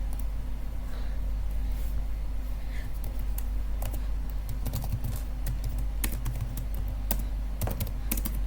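Code being typed on a computer keyboard, quick uneven runs of light key taps over a low steady hum, with brief pauses between bursts.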